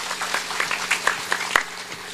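A gathering at a humorous Islamic religious talk claps in scattered, uneven bursts, individual hand claps popping out sharply over a thin background patter for a couple of seconds.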